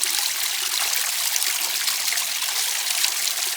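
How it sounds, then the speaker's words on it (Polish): Steady, continuous babbling of a brook, bright hissing water with a gentle trickle, constant level and no voices throughout. "ona uwielbia ten szum strumyka"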